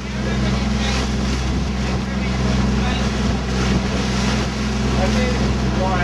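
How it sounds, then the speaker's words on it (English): Strong wind of about 22 knots buffets the microphone aboard a sailing boat, a steady loud roar of gusts and hull noise with low rumble running throughout. "Wind speed is 22 right now. 22 knots."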